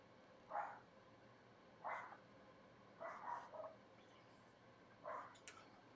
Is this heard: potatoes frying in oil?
no